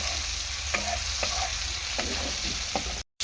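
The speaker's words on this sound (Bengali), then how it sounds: "গ্রেট করা আদাটা দিয়ে দিলাম ভালো করে একটু তেলে নাড়াচাড়া করে নেব" Grated ginger sizzles in hot oil, a steady close hiss broken by a few soft scraping stirs of a spatula against the pan.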